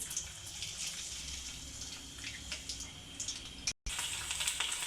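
Cumin seeds and garlic frying in hot oil in a pan, giving a faint, steady crackling sizzle with scattered pops and a brief dropout near the end, heard alone without talk.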